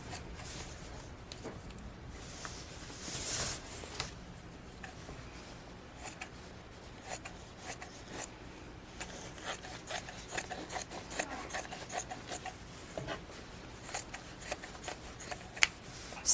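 Scissors snip through stabilizer material trimmed to fit an embroidery hoop for a Brother PE800 machine, giving quiet, close crisp cuts and rustling in irregular bursts over about sixteen seconds, with no talking.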